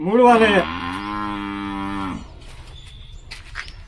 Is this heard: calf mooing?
yes